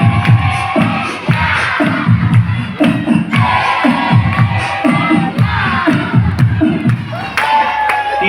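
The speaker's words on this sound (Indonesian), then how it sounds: "Tepuk tangan sambil teriak." A crowd at a Quran-completion celebration claps in a brisk steady rhythm while shouting and cheering together, loud and close, with children's voices mixed into the din.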